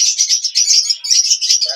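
Kagzi pigeons at the Katabon animal market make continuous high chirping and tweeting calls, fairly loud and close, with no talk over them.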